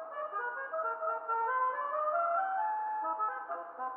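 A custom car horn plays a sustained melodic tune for several seconds in GTA 5 Online, clear and fairly loud with no talk over it.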